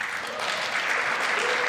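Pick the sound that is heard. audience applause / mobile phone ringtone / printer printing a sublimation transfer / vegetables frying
audience applause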